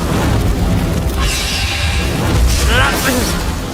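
A roaring fire blast attack in a cartoon, a loud sustained rumbling whoosh with a booming edge that fills the whole stretch while a voice speaks over it.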